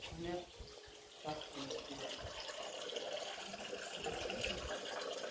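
Spring water gushes continuously from a source on a hilltop, a steady bright splashing rush, while people talk nearby.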